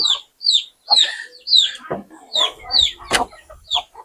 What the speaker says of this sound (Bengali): সবাই দেখুন আমার মুরগিগুলো কিভাবে খায়